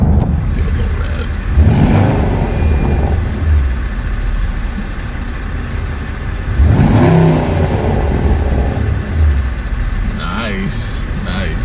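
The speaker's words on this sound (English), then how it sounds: "Give it a little rev." A Porsche Panamera turbo engine fitted with an exhaust modification and stock mufflers revs twice, each rise swelling and falling back to idle, with voices talking over it.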